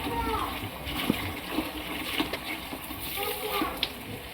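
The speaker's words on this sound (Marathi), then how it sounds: "तर आपण हे बघा चांगलं नळाखाली चांगलं पाणी घेऊन चांगलं स्वच्छ धुवून घ्यायचे।" Wheat grains are washed under a running kitchen tap, giving a continuous splashing stream of water with small irregular splatters, close and moderately quiet, with a voice speaking over it.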